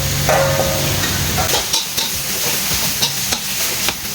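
Pork leg stir-frying in a pan for a spicy Isan-style dish, with a steady sizzle and repeated scraping strokes of a spatula across the metal, fairly close and loud, no voices.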